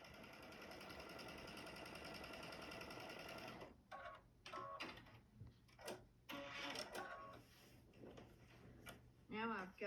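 A domestic sewing machine runs a steady fast stitch along a quarter-inch quilting seam, then gives way to short bursts of stitching amid clicks and fabric handling, with a voice talking in between.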